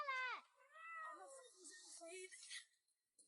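A pet cat meows up close indoors, one sharp cry followed by a longer, wavering meow that trails off into quiet.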